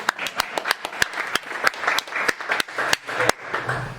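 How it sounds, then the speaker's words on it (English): An audience at an AI Tinkerers tech demo event in Amsterdam claps in a room, heard as a string of sharp, separate claps at an irregular rhythm across about four seconds. No one speaks. "Clap."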